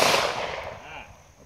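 A Beretta M9 handgun fires ball ammunition outdoors, a single loud sharp report whose echo trails off over about a second.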